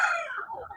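A rooster crows once nearby in a short, falling call that fades within a second, with no talking over it.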